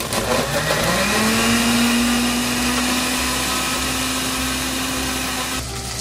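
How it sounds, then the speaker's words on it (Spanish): Blender whirring through mango habanero salsa with chile, salt and a little water, a loud steady motor drone whose pitch climbs as it spins up and then holds, before easing off at the end. "y licuamos"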